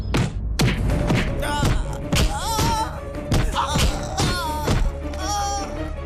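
Cartoon beating scene with repeated heavy thumps and thuds landing in quick succession, loud and close, mixed with groans, cries and busy animated sound effects.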